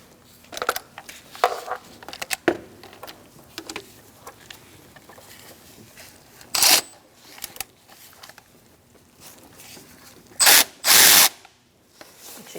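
Working on a 2012-2020 Chevrolet Sonic 1.8L, a power tool or ratchet spins out the last bolt in a few short bursts, with two louder runs near the end against quiet workshop background.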